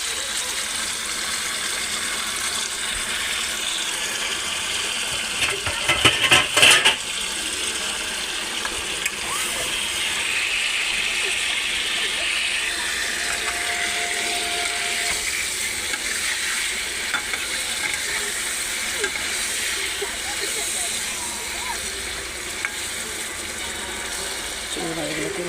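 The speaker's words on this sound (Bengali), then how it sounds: "চিংড়ি মাছটাকে ভালো করে আমি ভেজে দেবো না আমি।" Prawns frying with salt and turmeric in a pan give off a steady, full sizzle that runs the whole way through, with a brief burst of clattering stirring early on and occasional scrapes.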